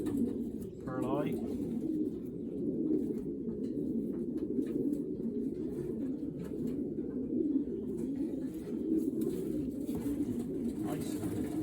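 Racing pigeons coo in a loft with a low, continuous, near murmur of overlapping calls under a voice.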